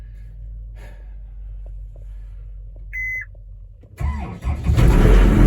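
An engine cranks and catches in freezing zero-degree cold on a jump-start battery pack, after a short beep and a quiet stretch, then rises into a loud running rumble near the end.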